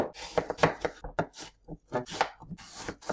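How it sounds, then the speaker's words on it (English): A banana is chopped into pieces for a smoothie, with a quick, irregular run of close knife strikes against a cutting board and no talk over them. "I am just going to cut this in pieces so it will be a little bit easy on the blender"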